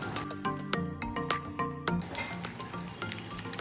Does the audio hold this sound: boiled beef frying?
yes